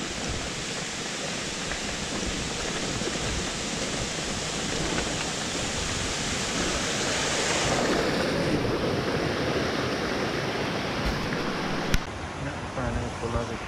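A hillside stream and small waterfall on a trail rush steadily, making a broad, loud roar of flowing water close by, with wind buffeting the microphone and a sharp knock near the end.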